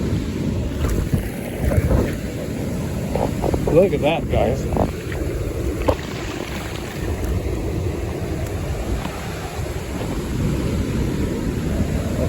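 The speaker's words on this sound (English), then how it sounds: "It is a little windy and cold" Wind buffets the microphone on a beach, a constant low roar with a faint wash of surf behind it, while a person speaks briefly over the gusts.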